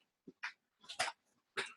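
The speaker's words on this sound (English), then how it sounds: "playing around with the dog." A dog plays nearby, giving a few short, quiet huffs and soft vocal yips in quick succession over about two seconds, with silence between the bursts.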